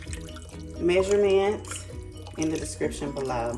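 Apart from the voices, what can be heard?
pouring beef broth into a crock pot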